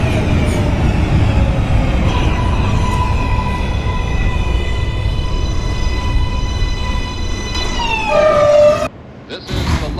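A Kawasaki R143 subway train on the J line pulls into Jamaica Center in the OpenBVE simulator, with a steady rumbling run, rising and falling motor whine, squealing brakes and a hiss as it stops.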